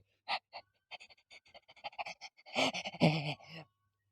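A young man out of breath from walking too fast while carrying a heavy notebook computer and books pants heavily, in a run of short ragged gasps that grow denser and more strained toward the end, close and alone.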